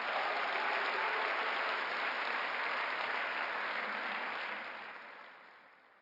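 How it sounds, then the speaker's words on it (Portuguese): A Sunday church congregation claps in praise, a broad dense wash of hands that stays loud and even before trailing off toward the end, with no voices over it. "Então dá um aplauso a Jesus."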